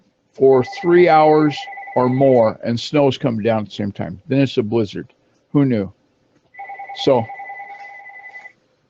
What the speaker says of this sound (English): yes, that is a phone you hear ringing.